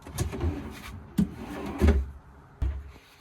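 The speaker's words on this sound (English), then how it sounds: "Drawers work really well. We have nice grabber catches in them, soft close." Soft-close cabinet drawers in a converted camper van slide and shut several times, each ending in a soft, muffled thump with light rattling in between.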